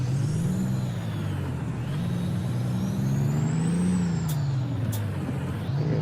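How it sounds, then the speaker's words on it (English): A heavy truck engine drones steadily in American Truck Simulator, rising and falling slightly in pitch, with two short, sharp air brake hisses near the end. "trying to keep the truck as quiet as I can"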